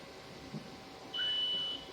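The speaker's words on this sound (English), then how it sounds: "Once you hear the beep, it's safe to open the doors again." A single steady electronic beep from a CNC machine after a tool change sounds for about half a second over a faint machine hum, clear but not loud.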